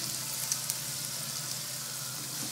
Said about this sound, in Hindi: आलू अब अच्छी तरह से फ्राई हो गए हैं और ये पूरी तरह से कुक भी हो गए हैं